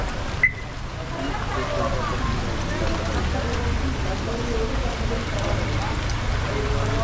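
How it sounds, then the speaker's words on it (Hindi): Steady rain in Kasol hisses across the whole stretch, a dense even patter with a brief knock near the start and faint voices under it. "पूरा कसोल बारिश हो रहा है"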